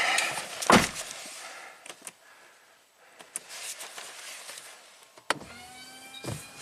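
An aftermarket windshield washer pump on a Mercedes AMG whirs in several short bursts, fairly quiet and close, with small clicks and spray sounds between the runs and no talking.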